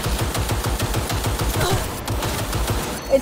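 A weapon in Cyberpunk 2077 fires in a rapid automatic burst, sharp evenly spaced shots that keep going for about three seconds, loud and close, with no talking over them.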